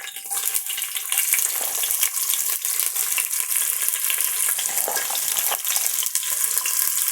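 Three onions frying in hot oil in a pan for a Tamil-style chicken biryani: a loud, continuous crackling sizzle held close and steady throughout, with no talk.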